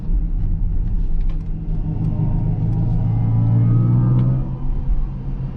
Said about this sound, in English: So how do you like the sound experience inside the EQS 53 AMG